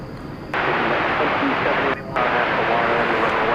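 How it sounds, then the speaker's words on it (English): An Airbus A321 airliner, American Flight 1082 to El Paso, roars steadily at DFW Airport at night, a loud broadband jet rush with brief breaks, while voices talk over a radio feed. "American Flight 1082 to El Paso, an Airbus A321."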